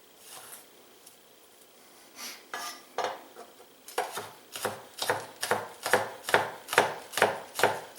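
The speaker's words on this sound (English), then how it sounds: "Notice how I'm cutting and pushing at the same time." A knife chops scallions on a cutting board. A few scattered cuts open the sequence, then it settles into a brisk, regular run of about ten sharp, close thumps.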